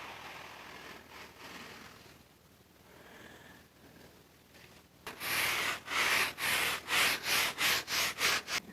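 A greasy table is scrubbed with Super Clean degreaser: faint soft wiping at first, then a run of loud, quick back-and-forth rubbing strokes in an even rhythm close by.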